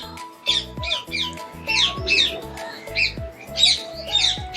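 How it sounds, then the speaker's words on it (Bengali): A myna bird at Rangpur zoo gives repeated loud, harsh squawks and chattering calls in an irregular rhythm, heard close up over a steady low hum. "ময়না পাখি প্রথমে আপনারা দেখতে পাচ্ছেন"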